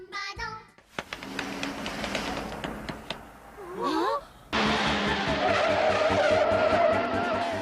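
Car tyres skid and squeal in busy Pyongyang city traffic in a North Korean film, in sharp bursts over engine and street noise that build to a loud, sustained screech.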